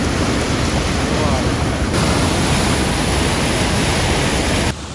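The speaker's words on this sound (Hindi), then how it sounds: "8 में से एक खुला हुआ है मात्र, और उसमें से भी इतना पानी जा रहा है बहुत ज़्यादा" Heavy water rushes steadily through a single open gate of an eight-gate dam on the Betwa River, a loud, dense, continuous roar close by that holds almost unchanged before cutting off abruptly near the end.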